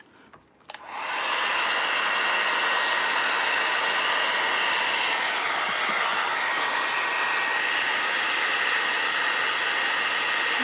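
A hair dryer drying glue on an Easter egg craft made from molds on a wood board switches on after a brief pause and runs loud and steady, with a constant blowing whoosh and no talking.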